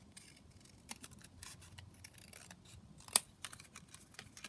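Scissors snip through a paper scrap while trimming a skinny flip-down booklet, with a few quiet scattered cuts and one sharper, louder snip near the end, heard up close at a low level without any talk.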